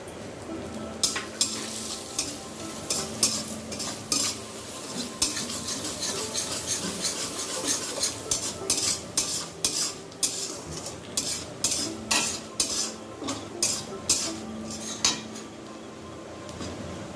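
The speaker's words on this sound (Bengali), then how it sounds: "গোবিন্দভোগ চালটাকে একটু ভেজে নেব।" Gobindobhog rice grains fried in ghee in a kadai, stirred with repeated scraping strokes of a spatula over a constant sizzle, close and fairly loud, no talking.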